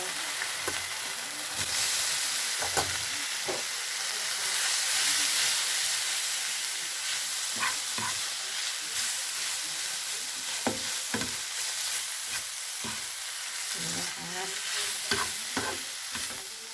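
Instant noodles stir-fry with holy basil in a hot pan or wok, a loud steady sizzle with repeated knocks and scrapes of the spatula tossing the noodles, no talking.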